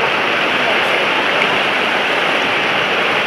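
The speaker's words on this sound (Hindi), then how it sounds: "देखो कितना तेजी से पानी जा रहा है" Fast floodwater rushes through a village in a loud, steady broadband roar that stays constant and close from start to finish, with no talking over it.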